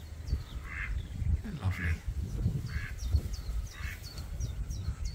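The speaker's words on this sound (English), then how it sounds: "Lots of little baby ducks playing before, but they've swum up that part of the river now." Ducks quacking on a river in the Norfolk Broads, several short nasal calls repeating at a moderate distance over a low outdoor rumble, while a person talks briefly over them.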